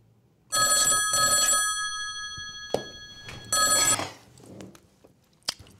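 A telephone bell rings in two quick bursts, pauses, then rings one more burst, loud and close, with a few brief clicks and knocks around it.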